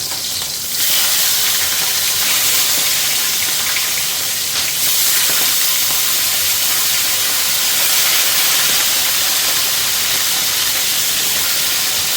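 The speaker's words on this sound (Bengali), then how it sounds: "আমি তেলের মধ্যে এক করে মাছের মুড়োগুলো দিয়ে দেবো" Fish heads sizzle loudly in hot oil, a dense, continuous crackling hiss that starts abruptly and carries on steadily.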